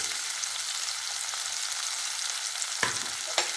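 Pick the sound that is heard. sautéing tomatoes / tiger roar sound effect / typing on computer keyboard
sautéing tomatoes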